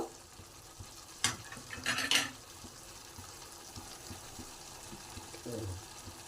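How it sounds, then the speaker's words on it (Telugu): Lady finger (okra) and mutton curry being stirred in a pot, Muslim-style pulisu: a sharp clink, then a short burst of scraping and rustling stirring, followed by quiet background and a faint low thump near the end. "ఒకసారి కలుపుకుందాం ఇప్పుడు ఇందులో"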